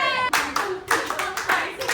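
Someone gives several loud, close hand claps in a quick uneven rhythm during wedding preparations, with a voice briefly heard at the start.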